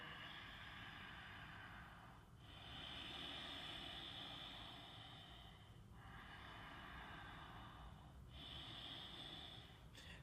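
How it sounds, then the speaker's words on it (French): Deep Ujjayi yoga breathing during a Sun Salutation, slow drawn-out breaths with a soft hiss, repeating about every three to four seconds, close and faint. "continue à pratiquer Ujjayi avec une respiration bien profonde"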